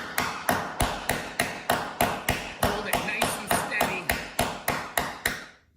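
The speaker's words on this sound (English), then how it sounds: "grab your steel hammer or something, mallet. You gotta shock this thing. Let's give this thing a few good taps." A steel hammer taps a T40 bit into a bolt on a Jeep Wrangler YJ during restoration, giving about fifteen sharp metallic strikes at a steady, fairly quick rhythm, close and loud, with no talking.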